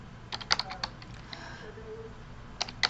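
Quick clusters of close computer keyboard keystrokes, a burst of clicks near the start and a couple more near the end, with a quiet gap between.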